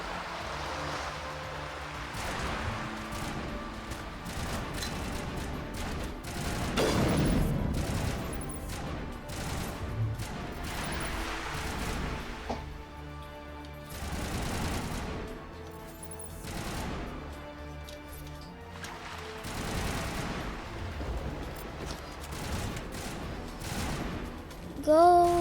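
Gunfire in the video game Mass Effect, dense repeated bursts and rattling volleys of shots running throughout with a few brief quieter gaps, fairly loud and mostly alone with little talk.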